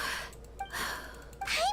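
Someone yawns, drawing long breathy inhalations with a quiet exhale between them, heard close and alone with no words.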